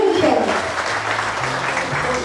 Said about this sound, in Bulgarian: Аплодисменти за Тимо и Малина